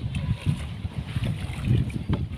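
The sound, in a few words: wind at sea on a boat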